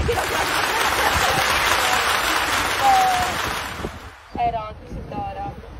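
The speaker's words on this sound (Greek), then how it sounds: "Πραγματικά χειροκρότημα." A live audience claps in a dense, steady burst that fades after about four seconds. A voice then speaks over the last scattered claps.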